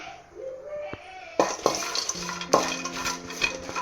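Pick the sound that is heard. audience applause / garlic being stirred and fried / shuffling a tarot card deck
garlic being stirred and fried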